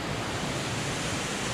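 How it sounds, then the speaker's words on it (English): Waterfall on a hiking trail in Roatan, a steady broadband rush of falling water, fairly loud and continuous with no talk. "Oh! Cascada. Waterfall. We made it."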